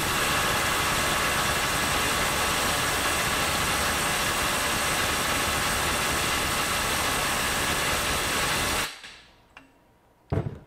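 A FLEX 24V impact driver hammers relentlessly against a 500 ft-lb bolt for about nine seconds, a dense, loud rattling that cuts off abruptly, followed by silence and a couple of faint clicks.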